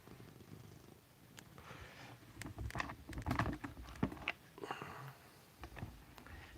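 A cat purrs close up in quiet surroundings, a soft low rumble broken by small rustles, taps and sniffing noises while the animal settles against someone's arm.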